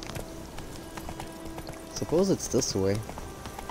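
Hooves clip-clop steadily as a horse moves in The Witcher 3, quiet and rhythmic under the game's ambience, before someone speaks briefly over it.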